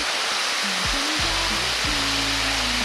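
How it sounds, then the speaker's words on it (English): A waterfall along the Natchez Trace Parkway roars as loud, steady broadband rushing that fills the whole clip, with low wind buffeting on the microphone. "here's the waterfall we was actually looking for"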